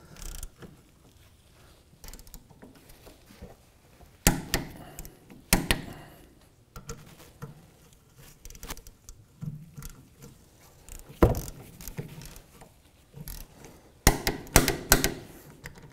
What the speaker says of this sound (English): Now we'll go ahead and torque down our caliper bracket